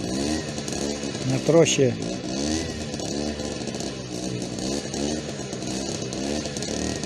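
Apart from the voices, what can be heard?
engine started and running, cold, before ploughing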